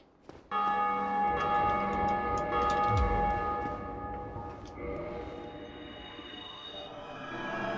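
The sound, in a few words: bell ringing in the video game Dark Souls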